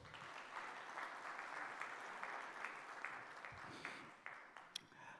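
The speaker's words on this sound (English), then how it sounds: "Please give a round of applause." An audience at Dubai Expo 2020 applauds Chief Minister M. K. Stalin with steady, dense clapping throughout, fairly soft and distant with a few sharper claps standing out near the end.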